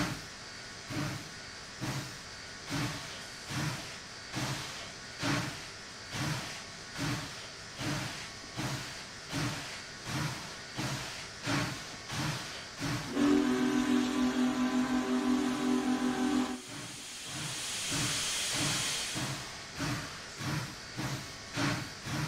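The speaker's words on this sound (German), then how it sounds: "Also der Sound, das ist eine der geilsten Aufnahmen, die ich so in TS Classic gehört habe. Von der Dampflok." Union Pacific Challenger steam locomotive in the TS Classic train simulator chuffing in a steady rhythmic beat, then a loud sustained steam whistle blast for a few seconds followed by a long hiss of released steam, with no talking.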